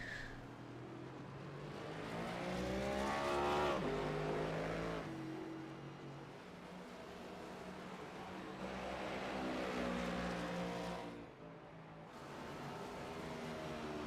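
Race cars roar around Circuit of the Americas on the final lap of a Gulf Digital Services Cup Series race, engines rising and falling as cars pass at moderate distance, fairly faint overall.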